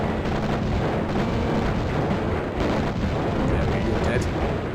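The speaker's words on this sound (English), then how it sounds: "I'm just going to quickly switch to the old air-to-ground missiles and just look how much more damage I'm doing to these buildings." Air-to-ground missiles from a fighter jet in a video game blast buildings, giving a dense, continuous rumble of explosions that stays loud throughout, with a few brief bursts standing out.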